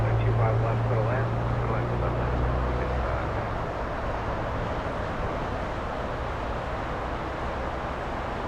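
A Boeing 787 jet departs an LAX runway, its broad engine roar steady and fairly loud throughout with a low rumble that eases slightly after a few seconds, and a voice talks underneath.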